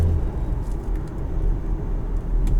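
A 2018 Audi Q5 Premium Plus driven with the paddle shifters, its engine a steady low drone blended with road and cabin rumble, continuous and fairly loud, no voices.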